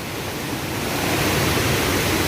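A powerful waterfall in a Kerala forest roars as a steady, dense broadband rush of falling water, loud and close, with no voices over it.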